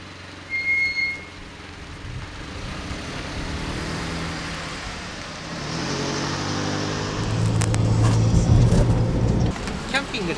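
A van is driven along a toll expressway in Japan toward Sapporo, its engine and road noise a steady low rumble that swells louder near the end, with occasional louder passing traffic.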